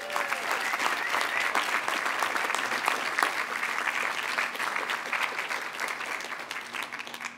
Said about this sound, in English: Let's give a warm round of applause as we commend these graduates on their accomplishments.